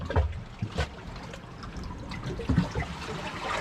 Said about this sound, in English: there's a hole right under here where the water comes out of